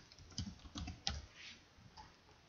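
A computer keyboard is typed on in short bursts of soft, close clicks with small pauses between them, quiet and with no voices.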